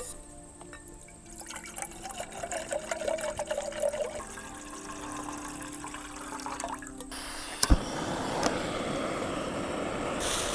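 Water is poured into a Stanley cup outdoors along a trail: a faint trickle, then a louder rushing splash toward the end, with no voices.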